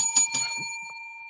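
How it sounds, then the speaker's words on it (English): A bicycle-style bell rings, with two quick bright strikes and a ringing tone that slowly fades out, fairly close. "I should have rung the bell a bit harder"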